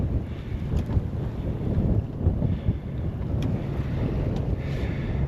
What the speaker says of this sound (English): It's chilly out here with that easterly wind.